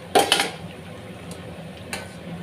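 Chana dal vadai lifted out of hot frying oil with a metal ladle: two quick metallic clinks close together near the start, then a single lighter clink later, over faint background hiss.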